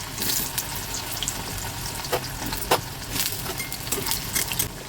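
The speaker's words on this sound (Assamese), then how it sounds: "এতিয়া এই তেলতে দিলোঁ মই আৰু কাচকলখিনিও এইদৰে ফ্ৰাই কৰি ল'ম।" Raw banana pieces fry in hot oil with a steady, dense sizzle, punctuated by brief crackles and the occasional stir, close up and alone with no voices.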